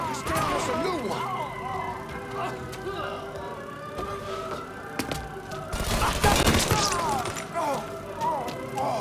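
Gunfire in the Mafia 3 video game, scattered shots popping amid a busy mix of game sounds and siren-like tones, with people talking over much of it.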